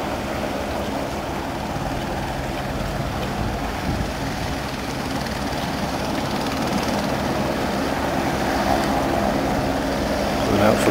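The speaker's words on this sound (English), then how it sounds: "Helicopter comes right in." A helicopter arriving for a sightseeing tour at Ayers Rock (Uluru), Australia, its steady engine and rotor drone holding at a constant loudness throughout and swelling slightly near the end.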